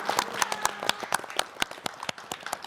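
An audience at a televised graduation-themed morning show in Jeonbuk claps in a steady, moderately close round of applause, with individual claps distinct and continuous across the stretch.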